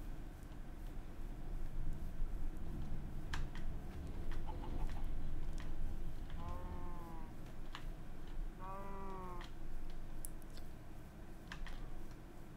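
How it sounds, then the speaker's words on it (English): Chickens cluck in a Minecraft modded game world, a few short rising-falling calls around the middle and again later, moderately close over steady game ambience with faint ticks. "We'll attract 3 chickens and we'll breed them up a bit."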